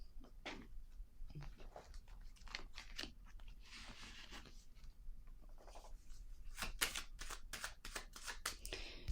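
Tarot cards being shuffled close up, a steady flurry of crisp riffles and slaps with a denser burst of sharp card snaps toward the end.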